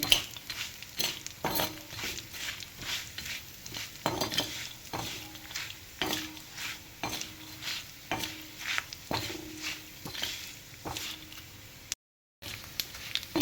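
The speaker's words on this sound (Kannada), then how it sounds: "ಅದನ್ನು ಹಾಕಿ ಈ ರೀತಿಯಾಗಿ ಫ್ರೈ ಮಾಡಿ" Sliced dry coconut stir-fried in a pan for Uttara Kannada-style spicy avalakki, heard as a light sizzle under regular scraping stir strokes repeating about once a second, with a brief silent gap near the end.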